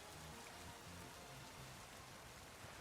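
Steady rain hissing softly in the Pokemon game Legends Z-A, a faint continuous wash of drops with no talk over it.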